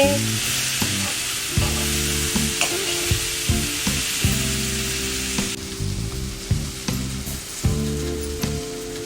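Washed poha stirred into a hot frying pan with fried paneer for Punjabi-style paneer poha, a loud steady sizzle and crackle broken by repeated spatula scrapes and knocks against the pan.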